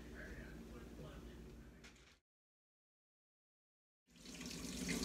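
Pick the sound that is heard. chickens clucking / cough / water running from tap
water running from tap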